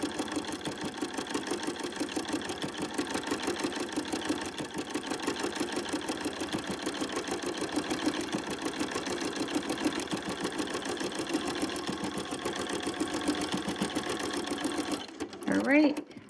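A sewing machine stitches steadily through fabric, folding in one pleat every 12 stitches, with a fast, even mechanical whir that runs close and unbroken for about fifteen seconds before stopping.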